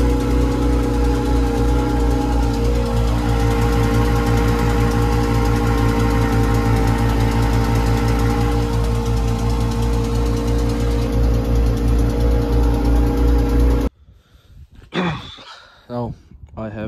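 A tractor hitched to a baler runs at a steady idle with a loud, continuous, close drone for about fourteen seconds, followed by a voice speaking.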